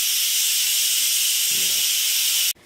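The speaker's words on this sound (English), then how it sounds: "So I'm just gonna vent it." An Instant Pot cooking apple cider vents its pressure in a loud, steady hiss of steam that cuts off abruptly near the end.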